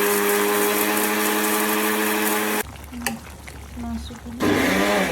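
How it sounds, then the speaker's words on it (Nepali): A kitchen blender grinds cardamom, cumin, coriander seeds and black pepper with a loud, steady whir that stops partway through, leaving a quieter gap with soft knocks before the motor roars back up. "अलैँची, जिरा, गोटा धनिया, मरिच, हाबा हालेर पिस्न आँटेको"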